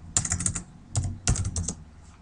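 Code typed on a computer keyboard, close and clear, in three quick bursts of rapid keystrokes separated by short pauses, with no voice.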